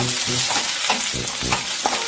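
Dry pan-roasting of coconut with curry leaves, a rhythmic scrape of stirring every half second over a steady sizzle, close and moderately loud, no voices.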